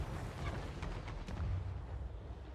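Cannon artillery in a video game battle with a large artillery battery: several muffled booms land in quick succession, with a thick rumbling din filling the gaps between them.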